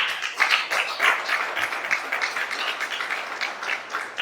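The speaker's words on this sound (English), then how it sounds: "it's good to clap very well" Audience at a sensitisation workshop on ISO 50001 and ISO 14001 in Lagos claps, a dense, steady round of many hands that rises and falls slightly over several seconds.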